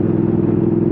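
A Triumph Speed Twin motorcycle cruising steadily at 50 mph with a throttle stabilizer holding speed, giving a continuous loud engine rumble and wind roar close to the rider.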